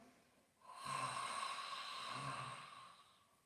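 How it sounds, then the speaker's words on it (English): A single long open-mouthed exhalation with the tongue out, done as a lion-face yoga exercise, breathy and close, swelling after a short pause and fading out over a few seconds. "Open mouth exhalation with the tongue sticking out and the eyes looking up."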